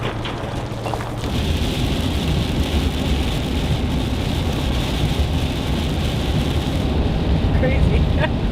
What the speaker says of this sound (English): It's a lot of rain. Most rain I've seen all year.